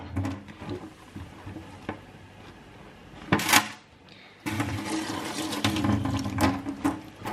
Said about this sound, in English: if you fill your sink up with hot water,